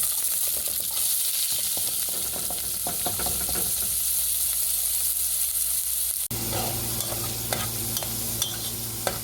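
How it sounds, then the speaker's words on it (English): Onions sauté in vegetable oil in a pot, a steady close sizzle with scraping stirs throughout that gets louder and brighter partway through, with no voices. "put a little vegetable oil down here in this skillet, this pot, and we're gonna saute some onions to start"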